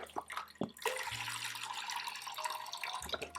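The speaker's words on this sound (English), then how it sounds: "1 liter of the vegetable broth. This is the 365, the Whole Foods brand. It happens to be a low sodium vegetable broth. So we're gonna add the whole liter" Low-sodium vegetable broth from a carton pours in a steady splashing stream into a pan on the stove for a vegan broccoli cheese soup, a sustained liquid gush with brief glugs at the start and end.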